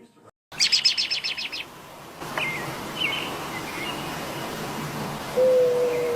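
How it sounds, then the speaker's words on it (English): Recorded mourning dove calls played back from a device: a short burst of repeated bird call notes, then thin whistled tones and a steady tone near the end, heard over background hiss with no talk. "I'm going to play the sounds of the morning dove"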